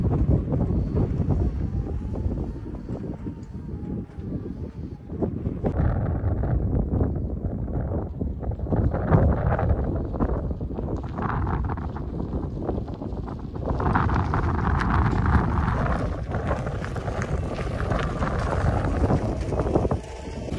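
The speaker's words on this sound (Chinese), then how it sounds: "这个草原上的风真的是太大了" Strong wind sweeps across open grassland, buffeting the microphone with a heavy, continuous low rumble that swells and eases in gusts, with some rattling and creaking mixed in and no talking.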